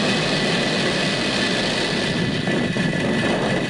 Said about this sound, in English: Engines full power. And liftoff from Starlink 2-8.